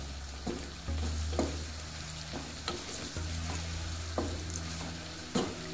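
Onions sizzle steadily in hot oil for beef jollof rice, with a spoon scraping through the pan every second or so in a relaxed stirring rhythm. The sound is close and there is no speech.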